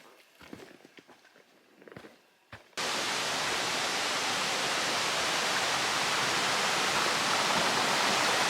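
A few scuffing footsteps on a trail give way to a loud, steady roar of rushing water from a nearby stream or cascade along the Appalachian Trail, filling the scene with broadband hiss and no voices.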